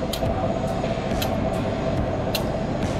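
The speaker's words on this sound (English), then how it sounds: "This was a diesel that was pulling our train." Steady loud rumbling of a diesel locomotive pulling a passenger train at a transportation museum, with faint periodic clicks riding over the continuous roar.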